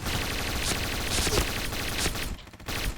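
Rapid, sustained MP9 submachine gun fire fills a Point Blank match. The bursts are loud and continuous, with one short gap near the end before the firing starts again.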